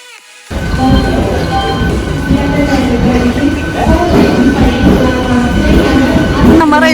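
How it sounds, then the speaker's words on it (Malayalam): A train at a railway station platform in Kozhikode rumbles loudly and continuously up close, with a tonal whine and clattering running under faint crowd noise. "നമ്മൾ റെയിൽവേ സ്റ്റേഷനിൽ എത്തിയിട്ടുണ്ട്"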